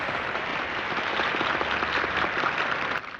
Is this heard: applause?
yes